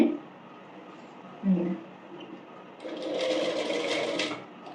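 A sewing machine runs a line of stitches along a folded half-inch hem on a child's umbrella frock, the steady close whir starting partway through after softer handling noise under quiet talk.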